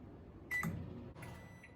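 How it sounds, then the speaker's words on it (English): A microwave oven heating mochi brownie dough under plastic wrap, with a low steady hum and a couple of brief clicks or bumps as it runs, fairly quiet and with no voices. "Then I'm gonna place it in the microwave for 2 minutes."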